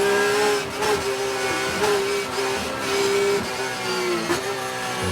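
Race cars at Mid-Ohio screaming at high revs, a loud, sustained engine wail with brief dips and pitch shifts as gears change, heard close and without talk.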